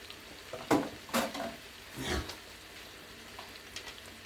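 Shrimp frying in a pan for risotto, with a few brief stirring scrapes and soft sizzling bursts over a quiet background, followed by fainter scattered crackles.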